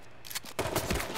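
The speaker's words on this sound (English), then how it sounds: "I'm just gonna start shooting random shots." Gunfire from the battle royale video game H1Z1: King of the Kill, a quick scattered run of muffled shots, faint and fairly low in level, with a couple of louder bursts partway through.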